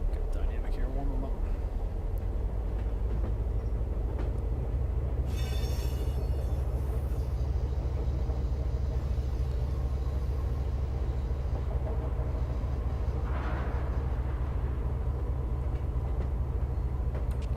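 A CSX freight locomotive in the Run 8 train simulator settles into dynamic braking, a low steady rumble and hum with a brief whine, while a voice talks over it.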